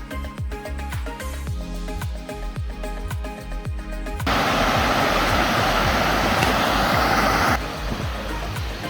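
A waterfall in the Sunshine Coast Hinterland, heard as a broad steady rushing roar that sets in halfway through after rhythmic clicking and rattling, then eases slightly.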